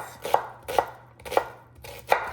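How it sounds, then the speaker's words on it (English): Onions being roughly chopped with a knife on a board for an Indian fritter recipe, four crisp, evenly spaced blade strikes close up with a low hum underneath and no talking. "We're just gonna chop these up."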